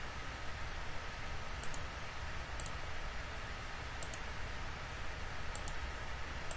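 Several pairs of faint, sharp double clicks from a computer mouse used in CAD software, spaced a second or so apart over a steady hiss of background noise.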